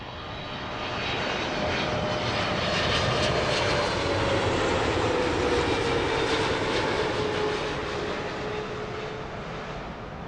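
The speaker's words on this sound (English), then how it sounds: "Awesome touchdown." A jet airliner touches down on runway 09 left at Heathrow with a loud, continuous engine roar that stays close and steady throughout, easing slightly toward the end; no voices.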